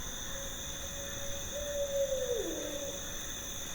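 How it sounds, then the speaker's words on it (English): A single drawn-out owl hoot rises and bends downward, faint and distant against a steady background hiss with high insect-like tones. "It's an owl."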